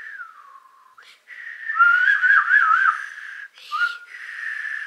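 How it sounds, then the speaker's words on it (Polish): A young girl whistles a short, wavering tune of several breathy notes with one longer warbling passage, close and alone with no talking. "pokaż wszystkim, jak ty gwizdasz"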